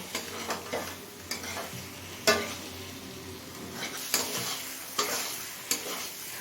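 Ginger-garlic paste sautéing in a pan for ghugni, a soft continuous sizzle with a spatula scraping and knocking against the pan every second or so, fairly quiet and close, no talking.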